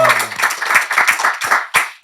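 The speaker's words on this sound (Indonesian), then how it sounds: "Tepuk tangan untuk Pak Tarsan." A studio audience claps for the veteran comedian Tarzan of Srimulat, brisk close clapping for about two seconds with a brief voice at the start.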